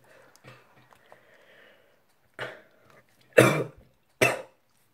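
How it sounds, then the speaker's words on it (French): Three sharp coughs in quick succession near the end, after a stretch of faint rustling and quiet. "Excusez-moi, je tousse"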